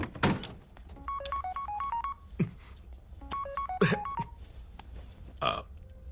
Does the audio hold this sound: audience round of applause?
no